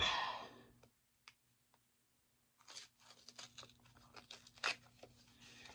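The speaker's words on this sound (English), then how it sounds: "A little open up of the envelope." A paper envelope from an advent storybook calendar is torn open: a few faint clicks, then a burst of close crinkling and ripping paper with one sharp tear near the end.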